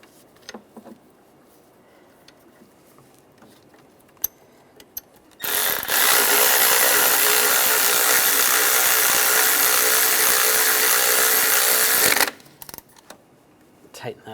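Ratchet tightening a bracket bolt on a 1996–2002 Toyota 4Runner valve cover: one loud, continuous whirring run of about seven seconds, with faint tool clicks and handling noises before and after.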